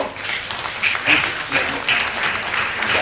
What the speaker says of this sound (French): je nous demande de pouvoir mettre fin à cette table ronde avec un tonnerre d'applaudissements